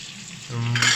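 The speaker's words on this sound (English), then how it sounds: "flip the steak right back on and let it soak in a little bit of butter" Steak sizzling in melted butter in a pan, a steady close hiss that swells louder and brighter halfway through as the meat goes back in, with no talking.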